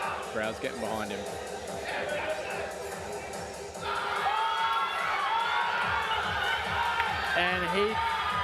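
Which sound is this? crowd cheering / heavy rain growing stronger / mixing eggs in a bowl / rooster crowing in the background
crowd cheering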